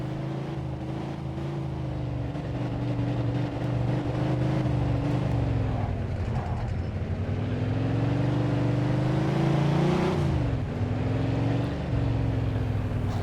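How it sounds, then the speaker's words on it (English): Engine revving while driving in the video game Mafia II, a loud continuous drone that rises and falls in pitch, with wind-like noise over it and no talk. "That's how you rev the engine."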